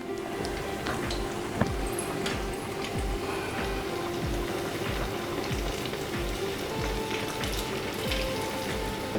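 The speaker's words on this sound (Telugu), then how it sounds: "ఈ మీడియంలోనే మనకి వేగాలి" Lentil vadas for dahi vada frying in oil on medium heat, a steady crackling sizzle with soft rhythmic bubbling pops, close and even throughout.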